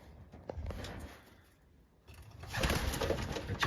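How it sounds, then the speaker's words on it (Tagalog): Racing pigeons cooing in a New Zealand pigeon loft, with soft, repeated low coos that fade briefly and then return slightly louder against a quiet, airy background. "Gandang ibon, no?"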